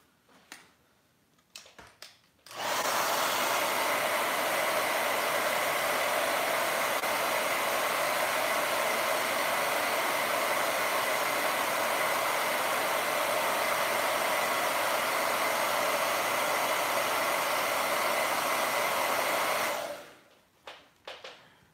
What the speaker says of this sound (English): Let me hold this sucker out a little bit under heat.